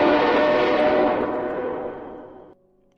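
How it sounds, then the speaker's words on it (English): Train horn from the HBM mod alarms in a video game, a loud sustained blare that slowly fades, then cuts off abruptly, leaving a faint tone. "I'm gonna raise our train horn."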